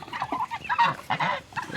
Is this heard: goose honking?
yes